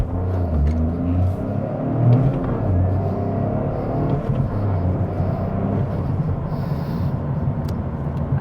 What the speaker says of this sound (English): I'm going to throw it into track mode to get a little more traction and see what it sounds like going a little faster